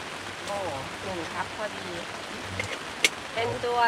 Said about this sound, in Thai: ฝนตกข้างนอกครับ พื้นแฉะครับ